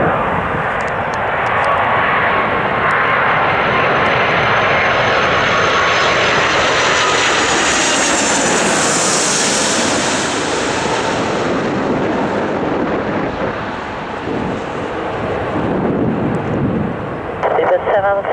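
A heavy jet airliner landing on runway 26 at Stockholm Arlanda roars loudly and continuously, swelling to a peak as it passes close and then easing slightly.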